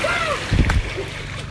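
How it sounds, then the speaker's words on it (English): Someone plunging head first into the water on a Myrtle Beach vacation makes one short, sharp splash in the middle, with voices and outdoor noise around it. "Splash!"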